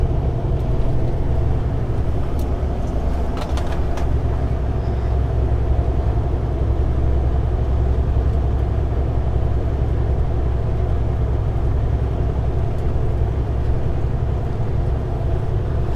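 A truck rolls slowly out of the Elko Kenworth yard, a steady loud low engine drone and road rumble that holds constant throughout with no talk.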